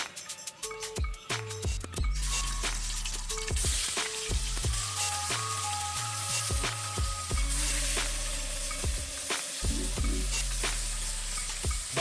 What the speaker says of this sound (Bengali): তেল গরম হলে আমরা মাছগুলো হালকা করে ভেজে নিলাম